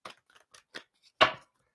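A tarot card deck is shuffled by hand, heard as a string of short, crisp papery snaps that builds to one louder riffle near the end, close up with no talk.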